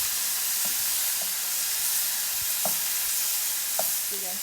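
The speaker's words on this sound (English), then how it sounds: "So now as the burgers cook on the other side for another 5 minutes" Cheeseburger patties sizzling in a pan, a dense steady frying hiss close up with occasional light taps and scrapes of a utensil, no talking.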